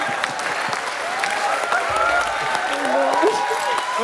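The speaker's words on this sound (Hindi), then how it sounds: "सुगंधा के लिए जोरदार तालियां।" Audience applause at a live Hindi comedy show stage performance, a steady wash of clapping running throughout, fairly loud, with voices talking over it.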